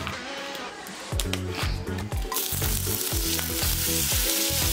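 Butter and whole spices sizzling in a hot kadai: dense, bright frying hiss that swells louder midway, with faint rhythmic stirring underneath and a voice briefly present.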